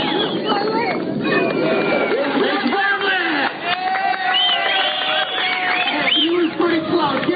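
Crowd at a 1988 Huntington Beach street style BMX contest cheers and whoops amid loud, continuous talking over a public address system, the cheering lively but partly buried under the voices.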